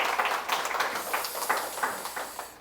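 Participants in an online Zoom morning meeting applaud, a brief stretch of fairly faint, dense clapping with a rapid, even patter from several hands.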